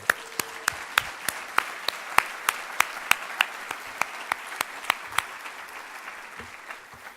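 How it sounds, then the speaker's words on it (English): Scattered hands clap at a conference, a thin run of separate sharp claps at a steady, unhurried pace that sounds like a small audience, moderately faint and with no voices over it. "So give them all a round of applause also."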